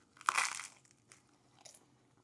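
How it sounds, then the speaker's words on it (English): A close, loud crunch of biting into toasted sourdough with everything bagel seasoning, followed by fainter crackly chewing. "Listen to this crunch."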